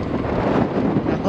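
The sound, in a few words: headwind blowing into microphone while riding gravel bike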